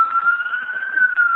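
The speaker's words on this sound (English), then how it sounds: "Where's the siren coming from?" A steady, wailing siren tone holds through the whole moment, fairly loud and continuous with a slight wavering pitch, heard with no talk over it.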